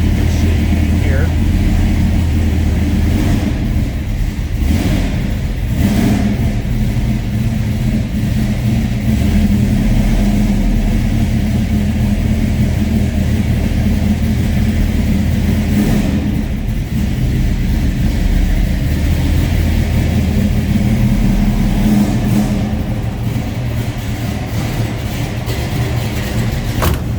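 A 1970 Dodge Dart Swinger hardtop with a 360 block stroked to 408 idles steadily while warming up after a non-cold start, a constant deep engine rumble filling the whole stretch with a few brief surges.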